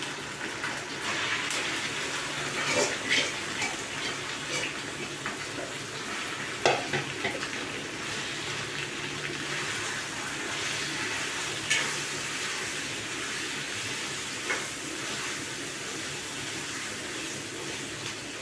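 Marinated chicken fries in a pan for chicken dum biryani, a steady hissing sizzle with occasional clinks and scrapes from stirring, and no talking.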